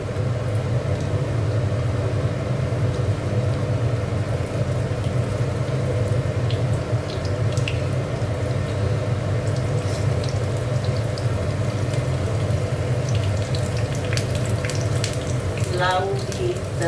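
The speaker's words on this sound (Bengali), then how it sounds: "দেখো, এখানে উচ্ছেগুলো ভেজে নিচ্ছি।" Bitter gourd pieces frying in a pan, a steady loud sizzle and hiss running without a break, with a faint voice briefly heard near the end.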